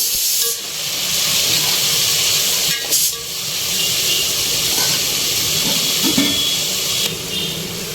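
Five chopped tomatoes dropped into a hot pan for tomato bath upma, giving a loud, continuous hissing sizzle that briefly dips and resumes a few times.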